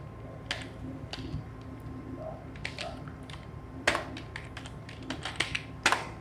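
Keys clatter on a computer keyboard during a word-processing lesson, irregular bursts of close taps with short pauses, a few louder strokes near the end, no speech over them.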